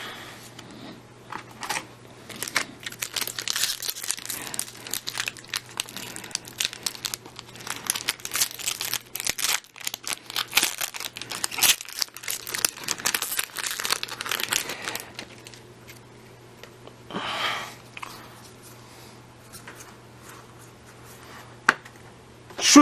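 Foil booster packs of Kaladesh trading cards are torn open and crinkled, with dense crackling and rustling up close for most of the time, then quieter handling and a final sharp crinkle.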